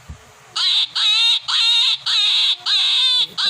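A rabbit call from the Animal 4D+ children's app repeats in five quick, high-pitched pulses, loud and close like a whimpering, crying child, with no talk.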